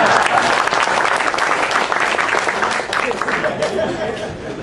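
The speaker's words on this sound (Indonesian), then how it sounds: "Tepuk tangan." An audience at a Kenduri Cinta gathering claps loudly and steadily, dense hand claps with a murmur of crowd chatter and a little laughter, slowly easing off.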